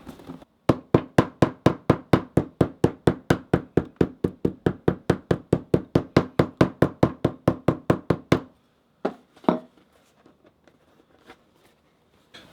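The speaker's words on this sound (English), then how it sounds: "And now I'm going to go over to our blocks and hammer this down so that we can set this glue." A hammer strikes a leather bag seam laid on blocks to set the glue: about thirty crisp, evenly spaced knocks in a fast, steady rhythm, then a pause with a few softer taps.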